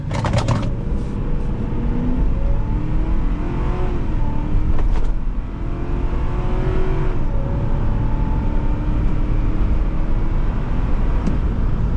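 A 2004 Ford Explorer with a 4.6L V8 accelerates hard from 0 to 60 mph, heard from inside the cabin. The engine drone is loud and rises through several gear changes, dipping at each shift, with no talk.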